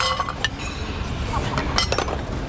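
Ceramic plates and small saucers clink and knock against each other in a series of sharp, scattered rattles as they are handled in a dumpster, with a person talking at times.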